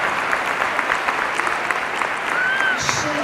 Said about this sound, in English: I can't believe that Jeremiah is clapping.